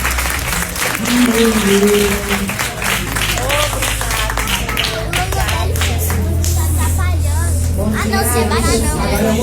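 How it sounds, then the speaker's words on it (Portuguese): Church congregation applauding together in a sustained wave of clapping, with a voice speaking and music playing throughout. "Você pode dar uma salva de palmas para o Senhor?"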